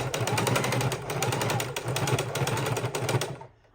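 A sewing machine stitches a fabric soup bowl, its needle pounding in a rapid, even mechanical rattle close by, running steadily before stopping abruptly at the end.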